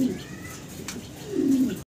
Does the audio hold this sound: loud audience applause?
no